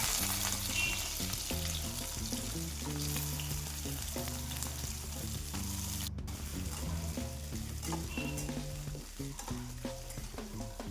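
Drumstick stems and potatoes fry in hot oil with nigella seeds for a Bengali data chorchori, a continuous moderate sizzle with occasional stirring scrapes and a brief break partway through.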